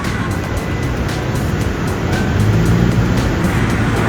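A Slovak Lines bus at a Bratislava bus station gives a steady, fairly loud engine rumble with broadband traffic noise, the low drone continuing evenly throughout with no voices.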